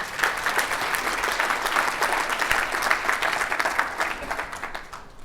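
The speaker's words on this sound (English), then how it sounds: "another round of applause for Dai." A conference crowd at a web components event applauds after a talk, a sustained, full clapping of many hands at an even level that tapers off near the end.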